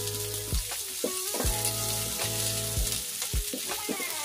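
Onion stir-fries in a pan, sending up a dense, bright sizzle with repeated knocks and scrapes from a spatula at a steady, unhurried pace.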